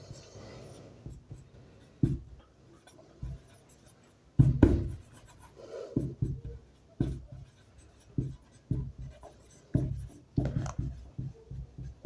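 Chalk or marker strokes on a classroom board during a Class 10 trigonometry lesson, a run of short scratchy taps and scrapes in irregular bursts, close and fairly clear, with no talking over them.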